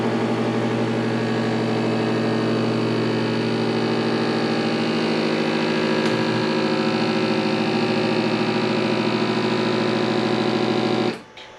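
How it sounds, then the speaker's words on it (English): Vacuum sealer pulling air from a double-sealed food storage bag, a steady loud motor drone with a rich hum that runs unbroken for about eleven seconds before cutting off abruptly at the end. "now I will vacuum it."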